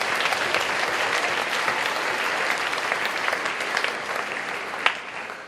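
Applause for students at a middle and senior school assembly, a broad, sustained wash of clapping from a large crowd that holds steady throughout, with one sharper clap standing out near the end.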